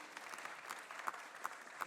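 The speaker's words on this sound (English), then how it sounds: "Let us give them a round of applause." Conference audience clapping for a panel session, a faint, distant patter of applause with a few sharper claps standing out near the end, brief and thin.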